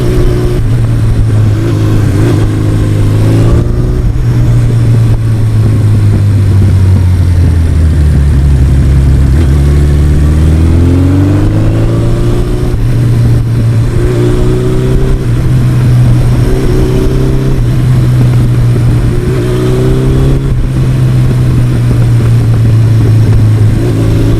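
A 1982 Suzuki GS1100E motorcycle rides along back roads, its engine droning close and loud, rising and falling through several gear changes and throttle swells with no talking.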